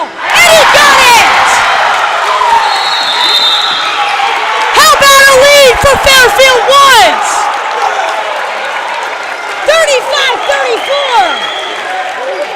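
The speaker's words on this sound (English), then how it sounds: "The crowd loves it." Crowd at a boys middle-school basketball game, Fairfield Woods vs. Wooster, roars and whoops loudly throughout, with sneaker squeaks and ball bounces from the court and an announcer talking over the noise.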